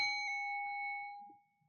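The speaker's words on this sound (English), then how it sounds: "And when I ring the bell" One bell strike rings clear during a guided meditation, its bright tone lingering and slowly fading out over more than a second in an otherwise quiet room.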